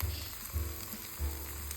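Boiled-egg ghotala (Ande ka ghotala) with lemon juice is stirred in a hot pan, giving a steady close sizzle with soft low thumps each time the mixture is turned.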